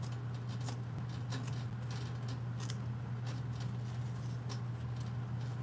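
Scissors snip embroidery thread on a onesie beside a six-needle embroidery machine, with several sharp, brief clicks scattered over a steady low machine hum.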